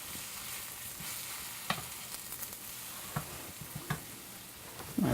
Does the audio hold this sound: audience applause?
no